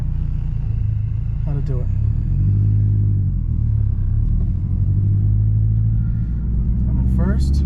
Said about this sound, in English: I'm gonna drive along.